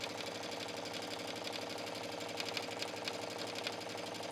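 A sewing machine runs continuously, stitching a seam on a jean shirt, with a steady, fairly soft mechanical whir and rapid needle pulsing and no voices.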